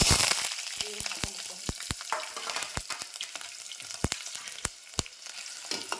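Sliced onions and green chillies fry in oil in a home kitchen pan, a steady crackling sizzle punctuated by sharp, irregular clicks and pops of a spatula scraping and tapping the pan, close and fairly quiet with no talking.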